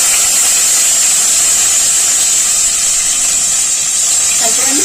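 Tomato dropped into hot tempering oil for a Bengali muri ghonto with katla fish head, giving a loud, steady broadband sizzle and hiss that holds evenly throughout.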